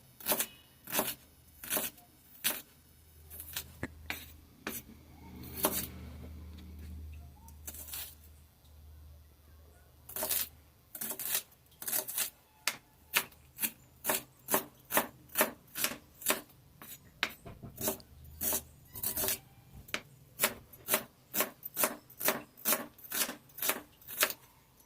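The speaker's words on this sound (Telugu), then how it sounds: "2 ఉల్లిపాయలు తీసుకొని వాటిని చిన్న ముక్కలుగా మనం కట్ చేసుకోవాలి" Onions being chopped into small pieces with a knife on a board: a long run of crisp, evenly spaced close-up knife strikes with a brief pause partway through.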